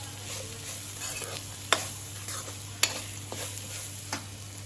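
Vegetables stirred with garam masala in a hot pan: a soft continuous sizzle with scraping strokes of a spoon and a few sharp taps against the pan, close and fairly quiet, no talking.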